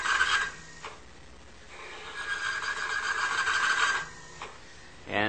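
A refrigeration motor under load grinds and rasps loudly until it locks up, a harsh continuous noise that swells and fades over a few seconds with no talking.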